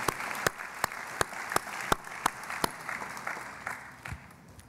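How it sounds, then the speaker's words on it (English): A small group at a university convocation claps politely, with sharp individual hand claps standing out over a softer spread of applause that gradually thins toward the end. "Let's give them a round of applause"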